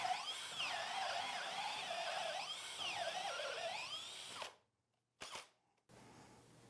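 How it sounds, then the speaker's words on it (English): A cordless drill bores a hole with a large hole saw, a whining, wavering high-pitched grind that rises and falls under load for several seconds, then cuts out and gives a couple of short bursts. "we're going to drill a hole using a large hole saw"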